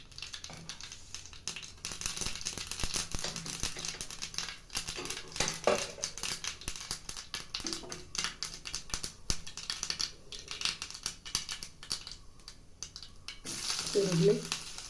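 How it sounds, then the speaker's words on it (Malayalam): Mustard seeds sputtering in hot oil for a Kerala-style curry, giving a dense run of rapid crackles and small pops over a continuous sizzle, with a faint voice near the end. "കടുക് ഇട്ട് കൊടുക്കാം."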